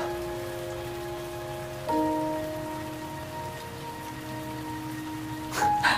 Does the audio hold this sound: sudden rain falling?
yes